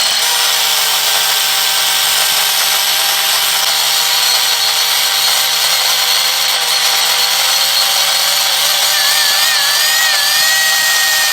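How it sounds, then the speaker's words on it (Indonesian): A drill and grinder whine continuously at high speed, smoothing a brass piece with a harsh, steady scraping tone, close and loud throughout. "Kemudian ini perlu dihaluskan dengan 2 alat yaitu bor dan gerinda."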